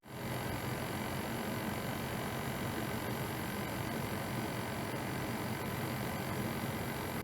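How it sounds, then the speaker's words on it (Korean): A loud portable air conditioner runs in a room with its vent hose out an open window, giving a steady, unbroken whir and hum with a low rumble that holds at the same level throughout, with no voices over it. "근데 이동식 에어컨의 소리가 정말 너무 커요."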